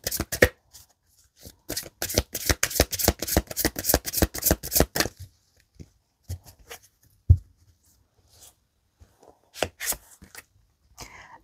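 Tarot cards shuffled for a reading: a fast run of crisp riffling snaps for about five seconds, then scattered, softer card taps and flicks close by, with no voices.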